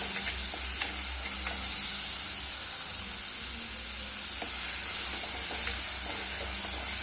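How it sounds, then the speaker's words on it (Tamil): Sambar base sautéing in a pan with curry leaves and coarse salt, a steady close sizzle and hiss with occasional soft stirring scrapes, continuous and alone without talk. "1 நிமிஷம் போல் நல்லா வதங்கட்டுங்க."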